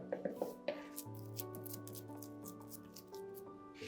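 Sticky rye sourdough dough squished and worked by hand in a bowl, giving soft wet squelches and slaps in irregular bursts, quiet and close, with faint background tones.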